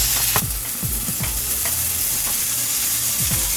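Onion, garlic, tomatoes and red chili sauté in a hot pan with a continuous crackling sizzle, broken by repeated scraping strokes of a spatula stirring the mix, close and loud with no talking.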